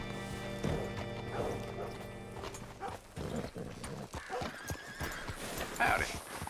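Horse whinnies and clopping hooves in the Red Dead Redemption 2 video game, set against a busy ambient mix with music, one loud neigh rising near the end.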